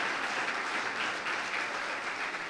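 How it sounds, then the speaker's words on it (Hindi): A church congregation gives steady, dense applause, welcoming a young boy at his dedication service, with sustained clapping throughout and no voices. "तो जोरदार तालियों में उसका इस्तकबाल"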